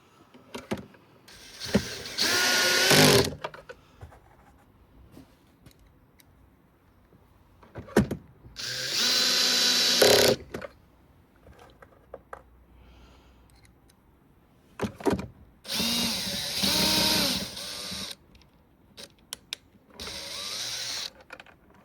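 A power drill drives screws during service of an AVA P70/P80 pressure washer pump, four separate whirring bursts of a few seconds each with quiet handling clicks between.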